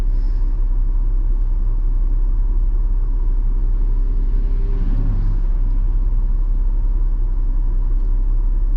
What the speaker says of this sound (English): the road noise, guys, I'm so sorry